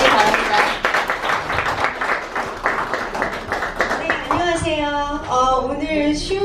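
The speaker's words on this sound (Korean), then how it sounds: "모두 박수로 받아주시기 바랍니다." Audience applause at a Korean-American political campaign event welcomes a state house candidate, a burst of clapping that carries on while voices and cheers rise over it toward the end.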